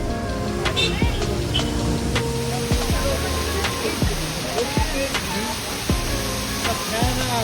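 A waterfall in Kerala roars as a steady, broad wash of rushing water, with people talking and scattered sharp knocks and voices over it throughout.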